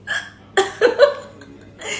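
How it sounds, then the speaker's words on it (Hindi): A person hiccups several times in quick succession, giving short, sharp voiced gulps mixed with breathy laughter, close and clear indoors. "अब तक मुझे हिचकी आ रही थी"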